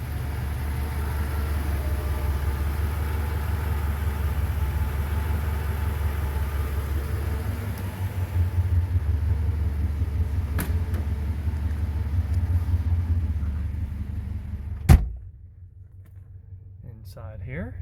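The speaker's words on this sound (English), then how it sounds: "Got the old girl running here. She's been idling for just a couple minutes now." Old Mercedes W126 or W124 engine idling at low steady revs, a continuous low rumble with a couple of brief knocks near the end before it drops quieter.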